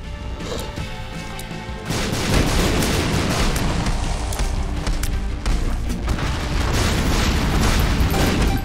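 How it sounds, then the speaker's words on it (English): Booming explosions and crashing impacts in The Binding of Isaac: Repentance build into a dense, loud, continuous barrage after a quieter opening couple of seconds, with no voice over it. "if it wasn't for the explosion immunity"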